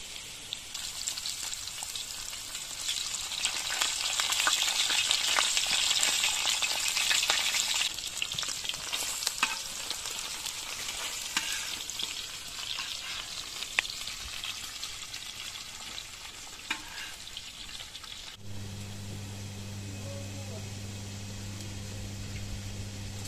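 Potatoes fry in a pan on a rocket stove, giving a steady soft crackling sizzle that stays even and moderately quiet, then drops to a low hum near the end.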